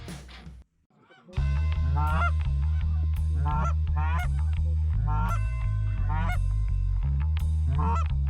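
A flock of geese honks repeatedly on a goose hunt, loud and close, with overlapping calls in bursts over a steady low rumble.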